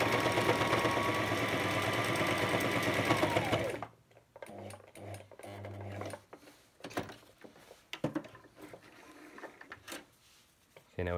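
A sewing machine runs steadily for about four seconds while stitching a name tape onto a military uniform, then stops, leaving scattered handling clicks and fabric noises.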